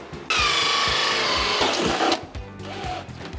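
A power drill boring a hole through wood, one loud whining burst that bites in, steadies, then winds down and stops, with faint knocks around it.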